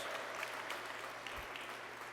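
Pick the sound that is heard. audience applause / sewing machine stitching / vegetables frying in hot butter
audience applause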